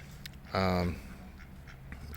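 A drake duck lets out one short, loud nasal quack close by, set against a low outdoor murmur among a small flock of drakes and ducks.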